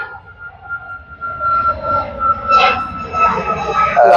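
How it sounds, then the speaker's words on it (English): A plane drones far off over the Donington Park GP circuit, a low, steady rumble rising slightly in the middle, with a voice talking over it. "In the distance, there's a plane coming in."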